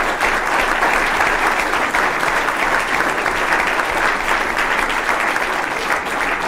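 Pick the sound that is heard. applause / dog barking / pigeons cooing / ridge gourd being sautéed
applause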